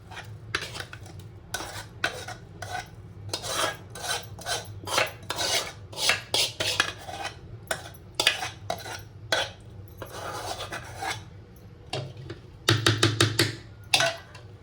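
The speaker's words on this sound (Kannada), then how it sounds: "ಈಗ ಇದನ್ನೆಲ್ಲ ಹಿಟ್ಟಿನಾಗ ಕುಡಿಸ್ಕೊತೀನಿ ನೋಡ್ರಿ ನಾನು" A spoon scrapes and clinks in a bowl while tempering with chilli and onion is mixed into paddu batter, giving irregular close rasping strokes and metallic taps, with a quicker burst of stirring near the end and no talking.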